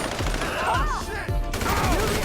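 Rapid gunfire crackles through a GTA V Online firefight in a near-continuous burst of shots, with game effects and sweeping sounds layered across the whole stretch.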